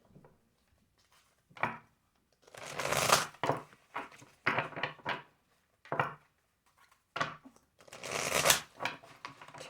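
Tarot cards are shuffled in several irregular bursts of riffling and papery slaps close up, with short quiet pauses between them.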